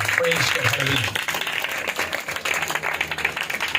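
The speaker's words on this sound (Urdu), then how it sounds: "روح القدس کے لیے ایک دفعہ پھر زور تالیاں بجائیں" A church congregation claps loudly during an Urdu-Hindi sermon, with a voice and some musical tones over the start before the clapping carries on more raggedly.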